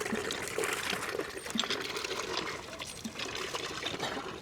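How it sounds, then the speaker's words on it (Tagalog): Water gushes from a pipe outdoors in a steady splashing, pouring rush, close and continuous, with no talking. "Yan yung ating tubig oh. Napakaganda ng buga."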